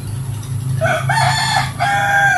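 A backyard rooster crows loudly and close by, a drawn-out call broken into rising and falling segments over a steady low background hum; softer fowl clucking may mix faintly underneath.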